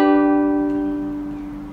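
A single ukulele chord strummed once, its bright stacked notes ringing out clearly and fading slowly, alone with no talking.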